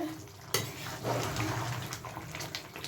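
A metal lid clanks off a pot of chicken skin and potatoes, then a spoon scrapes and stirs steadily through the cooking food at close range, with no talk.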